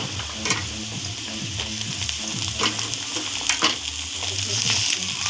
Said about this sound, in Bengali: প্রথমে দিচ্ছি গাজর, 5 মিনিট ফ্রাই করে নিয়েছি। এরপর দিয়ে দিচ্ছি বিনস